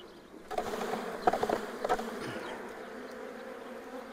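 Honey bees buzz in an opened beehive during an early-morning brood chamber and honey check, a steady close drone with a few louder individual bees darting past, and no talk.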